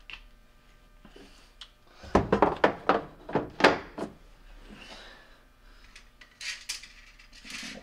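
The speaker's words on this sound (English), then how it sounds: "put the cover back on" A plastic cover clicked back into place on a Hotpoint dishwasher under repair for a drain fault, giving a quick run of close, hard thunks and knocks followed by lighter handling clatter.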